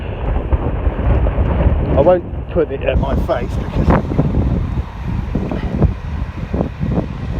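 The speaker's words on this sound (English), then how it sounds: "over the wind you won't be able to hear my voice" Strong wind buffeting the microphone while riding an Evolve Bamboo GTR electric skateboard along a park and beach front, loud and continuous with gusty rumbles, a voice speaking beneath the roar.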